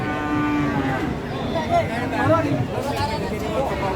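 Cattle, including Simmental cows, low and moo repeatedly at a busy livestock market in Tuban, with crowd chatter and people talking throughout.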